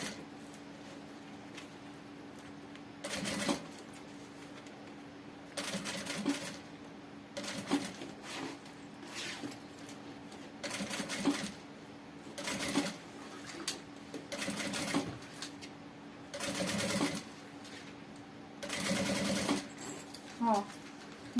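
A sewing machine stitching along the edge of a backpack in bursts of fast whirring, starting and stopping repeatedly, with soft talk in Portuguese between runs.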